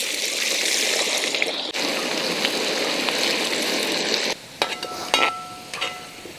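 Sliced onions fry in sunflower oil and ghee for egg biryani, a steady close sizzle with bubbling crackle, then quieter stirring scrapes and spatters near the end.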